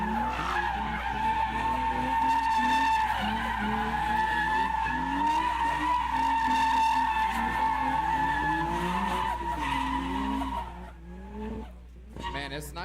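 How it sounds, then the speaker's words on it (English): Drift cars doing donuts at a drift competition final, with loud, sustained tire skidding and squealing over revving engines for about ten seconds before fading into quieter engine noise. "it's nicer when the quieter cars do the donuts"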